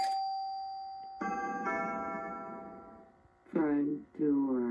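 An intercom doorbell integrated with an intercom system, set to a single chime, rings once as a sustained tonal chime with harmonics, followed by two short voice-like announcement tones.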